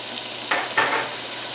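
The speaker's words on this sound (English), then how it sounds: "And I'm just going to saute this onion" Onion sautés in warm olive oil in a pan, with two short bursts of sizzling and stirring over a quiet, steady fry.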